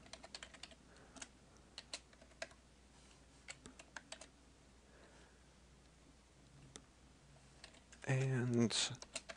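Scattered clicks of a computer keyboard as an HTML file is edited, light isolated keystrokes spread across the stretch with quiet gaps, ending in a short louder, busier burst near the close.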